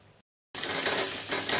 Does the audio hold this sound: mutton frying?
yes